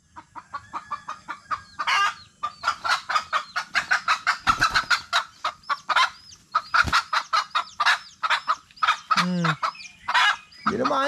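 Pet chickens cluck rapidly and excitedly at close range, a dense run of sharp repeated clucks and squawks with brief pauses, loud and continuous over a faint background hum.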